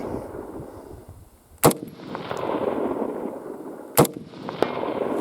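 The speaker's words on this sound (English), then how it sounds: "So I know it was more than 5 shots, but I wanted to get some video of that." TG36E rifle shots striking a target, two sharp loud cracks a couple of seconds apart standing out over steady outdoor background noise.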